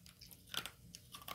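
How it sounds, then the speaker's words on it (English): Someone chews a bite of stiff 1988 Topps trading-card gum close up, making quiet, brittle crunches in several short bursts with no talking. "As you can hear the crunching."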